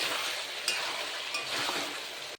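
Chicken and onion frying in a pan, a continuous hiss of sizzling oil with a few light scrapes and clinks of stirring near the end.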